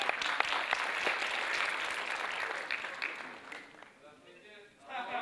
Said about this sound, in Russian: Под ваши аплодисменты, друзья.